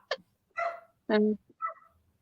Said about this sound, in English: The big dog's going over to the door to let the little dog in.